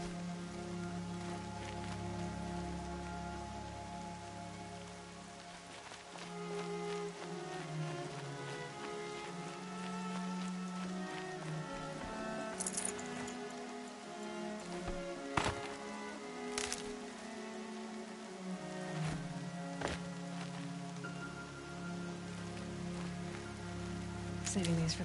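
Steady rain falls in Horizon Zero Dawn, a continuous close hiss of drops with occasional sharper taps, moderately loud throughout.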